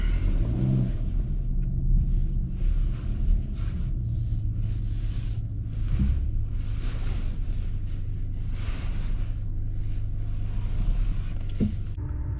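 A 2022 Hyundai Santa Cruz SEL AWD pickup idles and creeps backward into a parking spot, a steady low engine rumble with light swells of throttle, close and unbroken, without speech.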